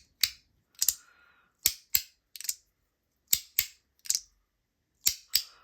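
A handheld clicking fidget toy, lightweight, gives sharp, close clicks, about ten in irregular pairs and singles, each crisp and loud with brief silence between.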